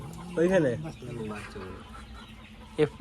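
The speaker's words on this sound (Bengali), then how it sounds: "দেখো দেশি মুরগি ভর্তি এখানে" Native country hens on a village poultry farm let out a couple of short clucking calls, fairly close, amid quieter background sound and a voice nearby.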